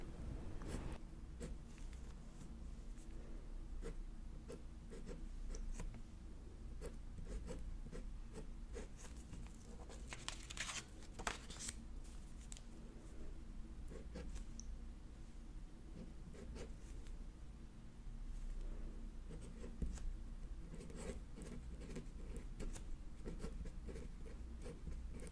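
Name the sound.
pen writing Japanese kanji by hand on paper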